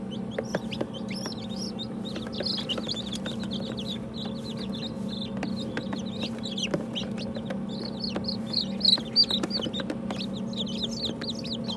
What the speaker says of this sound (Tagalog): May mga bagong pisa tayo. Masisiw.